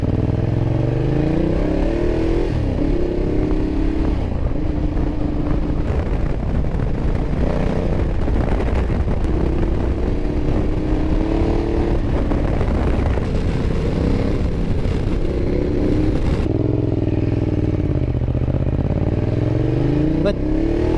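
2012 Ducati Diavel ridden on the road in urban mode, loud exhaust droning under heavy wind rush, the engine note rising and falling with gear changes as a rider talks over it the whole time.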